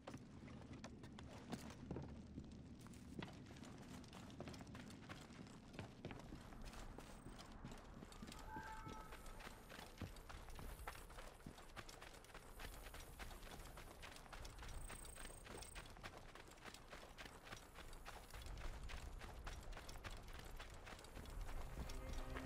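Horse hooves clip-clopping in Assassin's Creed Origins, a faint continuous run of hoofbeats over an ambient game backdrop, steady rhythm throughout.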